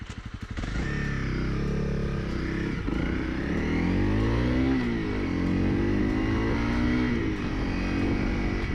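A Honda CRF motorcycle rides along a road, its engine droning steadily and close with rising and falling pitch as it revs and shifts, no voices present.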